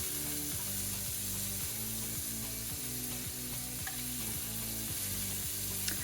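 Garlic browns in a large pot for penne rustica, with a steady, moderately quiet sizzle under a regular mechanical ticking hum, and nobody speaks.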